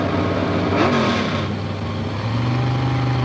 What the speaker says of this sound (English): Drivers in the water box doing the burnouts, getting their tires warmed up.